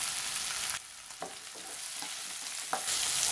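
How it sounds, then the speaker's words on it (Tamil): Onion, ginger and garlic sauté in a pan for a paneer gravy, a steady hiss of frying with a few soft scrapes of stirring, moderately loud and close, without talk. "வெங்காயம் இஞ்சி பூண்டெல்லாம் ஓரளவுக்கு வதங்கிருச்சுங்க."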